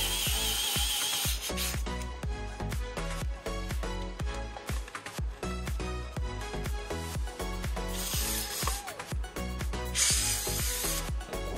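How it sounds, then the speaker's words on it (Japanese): Two bolts are screwed in by hand on a Honda Monkey 125 motorcycle headlight, giving close, dense bursts of rubbing, clicking and ratcheting metal-on-metal sounds with short pauses between them. "最後にこのボルトを2つでネジ止めしていきます"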